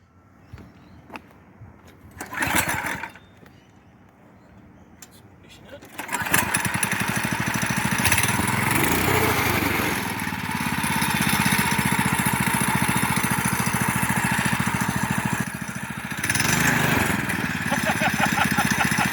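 A high-speed lawnmower engine starts up after a few short cranking bursts, then roars into a loud, steady, buzzing run that holds with slight throttle dips while someone talks over it.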